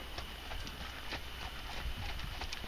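A ridden horse's hooves striking the ground in a quick, even clip-clop rhythm, moderately close over steady background noise.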